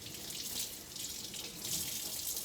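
A faucet runs steadily into a sink while soap is rinsed off hands, a continuous close splashing flow with no talking.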